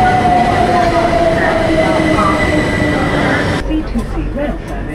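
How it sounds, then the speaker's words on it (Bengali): A subway train rumbles loudly into a station on a summer beach trip, a steady roar of wheels and carriages that cuts off abruptly near the end, with a brief scrape of wheels and muffled background chatter. "এই যে এসে পড়েছে আমাদের ট্রেন"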